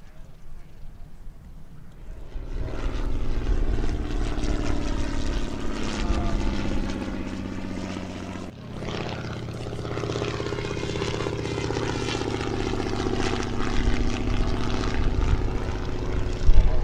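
A propeller-driven primary trainer airplane touching down at a World War II weekend airshow, its engine droning steadily and loudly throughout, with an announcer talking over the engine noise.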